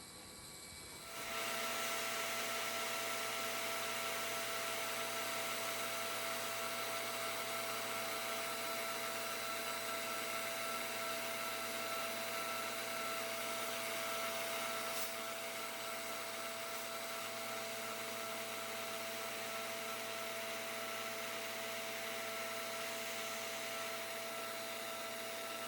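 A CNC router spins up and mills into wood, making a steady, loud, high whine that holds nearly constant throughout with a faint tonal hum and no talking.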